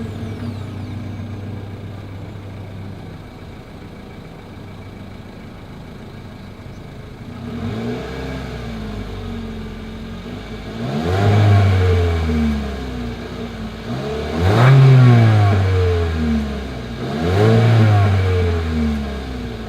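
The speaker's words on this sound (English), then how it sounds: "As always, here is that exhaust clip." A 2022 Mitsubishi Eclipse Cross idles quietly through its exhaust, then three loud rising revs swell and fall back in turn, close by and with no voices.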